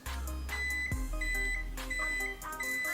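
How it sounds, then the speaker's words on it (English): A series of electronic reminder beeps from a sit-stand desk, high and tonal, repeating in short bursts over a low background hum, close by. "after 45 minutes it will place a beep like this"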